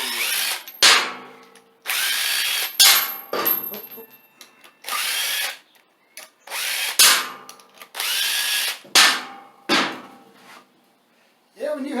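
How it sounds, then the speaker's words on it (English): Small impact driver removing seized steel bolts from an aluminium mower deck on a Craftsman LT2000 lawn tractor: repeated loud bursts of rattling hammering, each a second or so long, separated by short pauses, close up. "Let me get my little impact and get them out of there so I can do it quick."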